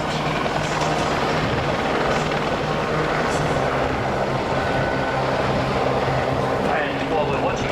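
Squirrel helicopters flying at an air show in Avalon, a loud, steady rotor and turbine roar filling the scene, with a voice talking over it.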